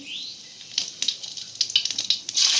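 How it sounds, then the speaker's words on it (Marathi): Cumin seeds dropped into hot oil in a kadai crackle and sizzle in a steady hiss with scattered pops, growing denser toward the end; close up, with no talk. "आता जिरे जरा ते टाकून घेते"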